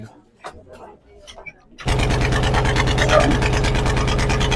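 After a few seconds of quiet talking, a boat engine suddenly starts and settles into a loud, steady, continuous drone.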